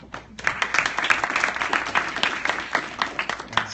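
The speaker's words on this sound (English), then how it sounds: "that's a clap" Audience applause rises and carries on steadily, a dense patter of many hands clapping at moderate loudness with no voices on top.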